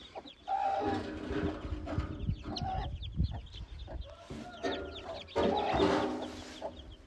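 A farm hen clucks in short, repeated bursts, fairly close, with soft background rustle and other fowl sounds between the calls.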